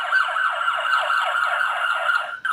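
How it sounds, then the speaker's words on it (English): A loud police car siren wails steadily and close by in a fast repeating up-and-down yelp, with no voices and nothing else over it. "The loud siren warns other drivers to move aside and let the police cars pass."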